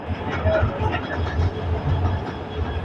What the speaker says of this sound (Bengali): আচ্ছা, এটা একটা ট্রেন।